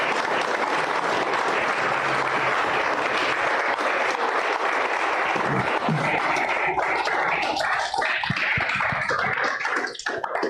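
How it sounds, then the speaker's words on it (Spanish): Loud, dense congregational applause fills a church, sustained and even before thinning into scattered claps and a few voices near the end. "Y dele un aplauso al Señor."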